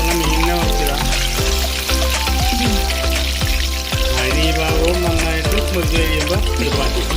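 Fish frying in a pan for fish molee, a loud, steady sizzle that runs throughout with crackling pops and spatter, plus occasional low knocks from the pan.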